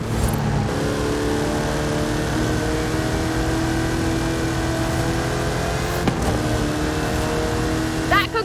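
Car in Forza Horizon 5 driving a Hot Wheels loop, its engine roaring loud and sustained with shifting revs and a few sharp clicks, close up and continuous.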